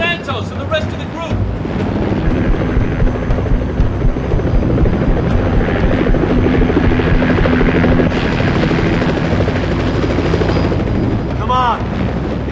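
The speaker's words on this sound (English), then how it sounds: "The helo's gonna evac us." Helicopter rotor thumping loudly and steadily as it arrives for an evacuation in the Battle Los Angeles video game, with gunfire, explosions and voices mixed in.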